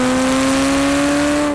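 A 1989 Ferrari F40 with a twin-turbocharged engine pulling hard on boost, a loud, steady, close engine drone with strong held tones and no talking.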